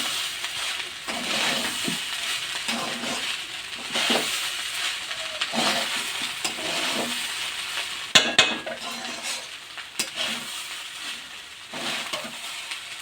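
Fried rice (pulao) being stirred in a hot pan on a gas stove, with steady sizzling and frying plus repeated scraping strokes of a utensil against the pan, some sharper clinks near the end.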